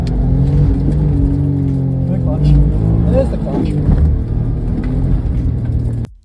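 Suzuki Cappuccino with a slipping clutch, its engine droning and revving while the pitch wavers and climbs unevenly, loud and close, cutting off at the end; a person talks over it.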